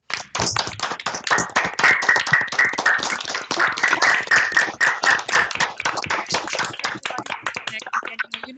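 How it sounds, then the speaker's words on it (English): Webinar participants clapping in a fairly quick, uneven string of claps heard close through a call connection, with a faint tone running beneath, steady for several seconds and then thinning out near the end. "please give Giorgia a big round of applause if you can."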